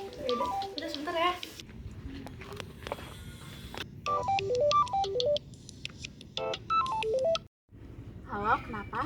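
A phone gives off a run of bright electronic beeping tones and melodic ringtone phrases, broken by short pauses, while children talk over and between the tones.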